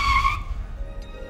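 A car driven by a learner lurches along; a short, sharp squeal cuts off abruptly, then a low, uneven rumble follows with a faint tone near the end.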